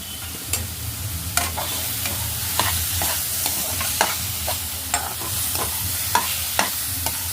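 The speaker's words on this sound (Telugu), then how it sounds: "ఈ షుగర్ వేసి బాగా కలుపుకోవాలి" Sugar is stirred into carrot halwa cooking in a pan, a low simmering sizzle underneath regular scraping knocks of a spoon against the pan, about one every second.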